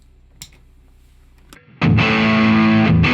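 An electric guitar played through a distortion pedal into a Boss Katana amp: a couple of faint picked notes, then a loud, sustained, heavily distorted chord rings out.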